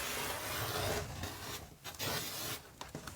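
Scissors or a blade work through red fabric to trim a straight edge, making continuous close rasping, rubbing cuts with a couple of brief pauses and no talk.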